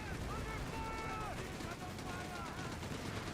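Rapid distant gunfire from a strafing run in the video game Company of Heroes 3 rattles continuously under battle noise, with a commentator talking over it.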